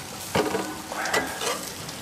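Bacon cheeseburger patties sizzling on an outdoor grill right after being flipped, a close, steady frying hiss with a few brief bursts of louder crackle.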